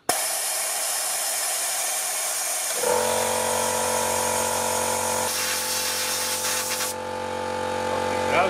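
Rust protection sprays steadily and loudly through a probe into a cavity of an Ape 50 three-wheeler, a continuous hissing jet with shifting tone as the nozzle moves.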